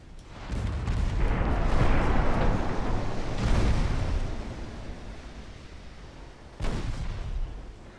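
Naval gunfire in a Greek campaign strategy game, with ship shells firing in a sustained rumbling barrage of booms and blasts, loud and dense, then a sharp fresh burst near the end.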